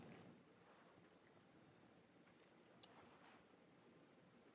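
A single sharp computer mouse click as a file is saved, brief and quiet against a faint steady room hiss.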